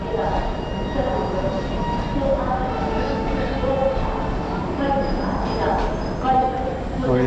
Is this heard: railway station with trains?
yes